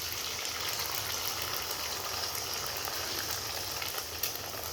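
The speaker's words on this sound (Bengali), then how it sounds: "এবার ডিমটা আমি দিয়ে দিই।" An egg goes into half-fried onions in a pan, and a loud, steady frying hiss fills the whole stretch with no talk.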